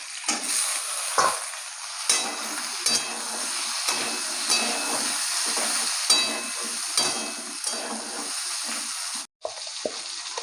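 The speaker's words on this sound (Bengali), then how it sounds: "আলুগুলো ভেজে নিয়েছি ভালো করে এই টমেটোগুলো দিয়ে দেবো" Fried potatoes and tomatoes sizzling in a pan for a vegetarian cauliflower curry, a continuous moderate crackle broken by repeated spatula scrapes and knocks, with one brief dropout near the end.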